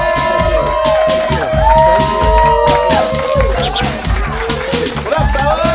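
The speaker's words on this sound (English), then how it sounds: "give a huge round of applause for Rob Deez and" Studio audience at a San Diego late-night talk show cheers and applauds for arriving guests Rob Deez and Kenny, a loud, sustained roar of clapping and whoops under bright tonal music.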